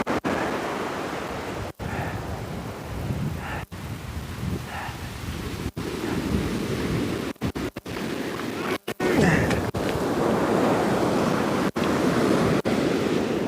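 Ocean surf rolls steadily onto a beach during surf fishing, a broad continuous wash of breaking waves with repeated sharp clicks and knocks from handling gear close by.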